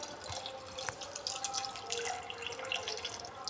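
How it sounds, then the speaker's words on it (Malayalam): Chopped vegetables rinsed under a running kitchen tap, a steady faint wash of flowing water with scattered drips and splashes throughout, no talking. "ഓക്കെ, നമ്മൾ നന്നായിട്ട് കഴുകുകയാണ്."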